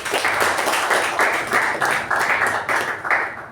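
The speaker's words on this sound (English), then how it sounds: "can you have a huge round of applause for our accountants?" A group applauding steadily, a continuous wash of clapping that pulses slightly, with no voices over it.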